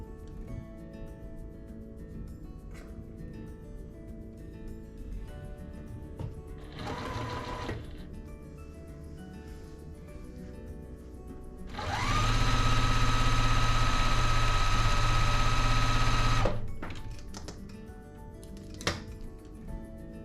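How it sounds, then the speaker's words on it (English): A sewing machine stitching quilt fabric runs in a short burst, then a longer steady whirring run of several seconds, close and loud, with quieter handling clicks between the runs. "We'll sew that right there."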